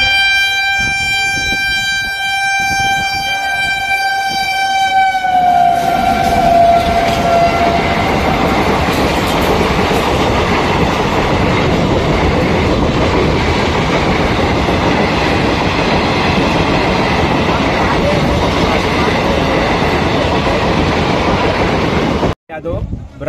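A train roars through Palari railway station in India, opening with a loud sustained horn blast, then a long, close, steady rumble and clatter of passing cars before cutting off abruptly at the end.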